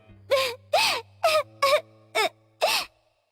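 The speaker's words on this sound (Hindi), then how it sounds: "वहां अचानक उसे किसी के रोने की आवाज आने लगी।" A girl crying in a forest in a Hindi story, heard as six separate sobbing wails in a steady rhythm, each rising and falling, close and clear over a quiet background.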